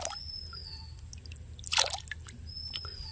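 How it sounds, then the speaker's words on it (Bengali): Water is poured over a white Shiva lingam, making faint splashing and scattered soft drips with a brief louder splash in the middle, against quiet background hum. "এই যে বাবার মাথায় জল দিচ্ছি।"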